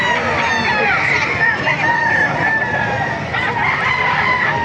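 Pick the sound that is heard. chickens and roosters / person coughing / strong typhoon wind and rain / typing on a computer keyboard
chickens and roosters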